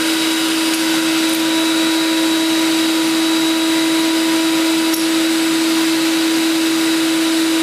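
A turbine paint sprayer blowing warm air gives a loud, constant high-pitched whine with a steady rushing hiss, like a vacuum cleaner running nonstop up close.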